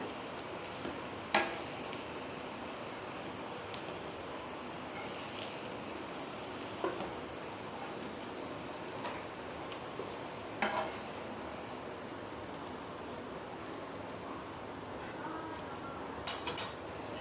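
Eggplant slices sizzle steadily in oil on a tawa, a quiet continuous frying hiss with occasional soft clicks and stirring sounds.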